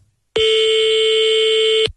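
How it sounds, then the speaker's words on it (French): One steady electronic ring of a telephone call heard from the caller's side, a loud buzzing tone about a second and a half long that starts and stops cleanly, with no talking. "ça c'est le téléphone qui sonne"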